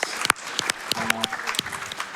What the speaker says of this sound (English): Should we really be applauding regicide